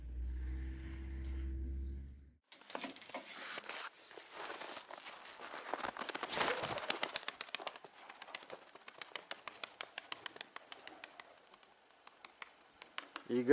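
Young coloured tumbler pigeons from Semirechye, Kazakhstan, are tossed from the hand and take off in a burst of fluttering, clapping wingbeats that keep going in quick, uneven flurries over a quiet outdoor background.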